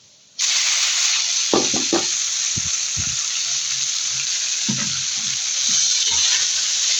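Water spinach dropped into a pan of fried onion and garlic sets off a sudden loud sizzle that holds steady and bright, with a few soft stirring knocks close by.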